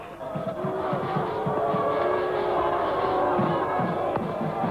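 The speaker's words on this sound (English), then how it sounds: "Crowd getting a little noisy" A large cricket stadium crowd roars steadily, a dense wash of voices and shouts with occasional louder swells, no single voice standing out.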